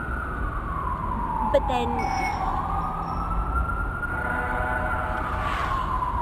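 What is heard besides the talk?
emergency vehicle siren passing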